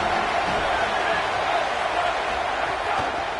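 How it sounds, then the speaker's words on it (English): A packed college football stadium crowd roars during a crosstown rivalry game, a dense, steady wall of cheering and noise that stays loud throughout with no pauses. "This crowd ready to make its presence known."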